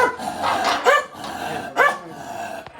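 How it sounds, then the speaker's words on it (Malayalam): A dog at a village house in Palakkad barks twice, sharp and close, with short yelping bursts amid quieter background sounds. "ആകെപ്പാടുള്ളത് ഇവിടെ ഒരു ഡോഗ്"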